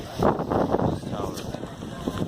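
Gusty wind buffets the microphone on a rainy day in Skagway, Alaska, a loud, rumbling outdoor roar with uneven surges, and a voice may be faintly present beneath it.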